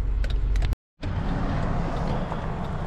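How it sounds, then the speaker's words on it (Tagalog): A car pulls over and parks at the roadside, its low engine rumble steady and close, with a brief complete dropout partway through. "para iparada ko rin yung sasakyan dito"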